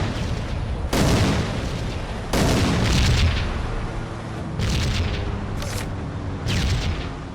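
In the World War I shooter Iron Storm, a tank cannon fires at two anti-aircraft guns, five or six heavy booming blasts spaced a second or so apart, each followed by a rumbling decay.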